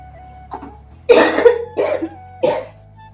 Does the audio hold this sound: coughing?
yes